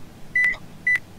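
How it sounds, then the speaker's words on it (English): Two short electronic microwave-oven beeps from a video game, evenly spaced about half a second apart, clear and fairly loud over a low hum. "What is that beeping that keeps happening? I think it's the microwave again."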